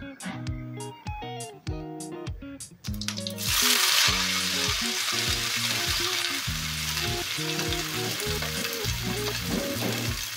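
Chopped pumpkin greens dropped into hot oil tempering, bursting into loud continuous sizzling after a few seconds of rhythmic tonal beeps, close and steady with no talk.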